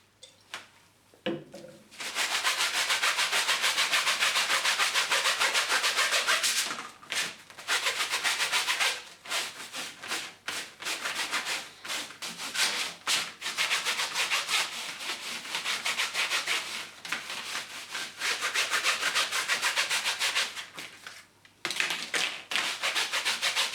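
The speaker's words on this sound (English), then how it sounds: "Then we're going to clean this one piece of aluminium using the methylated spirits again." An aluminium grease filter from a Smeg kitchen extractor is scrubbed with methylated spirits, a loud close rasping rub in long continuous strokes broken by short pauses.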